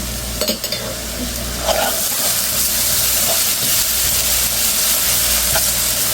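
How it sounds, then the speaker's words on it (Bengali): Garlic frying with onion in a pan: a constant close sizzle and hiss, with a few sharp scraping stirs near the start and occasional light clinks. "রসুনটা পেঁয়াজের সাথে ভেজে নেব, যেন রসুনের গন্ধ না আসে।"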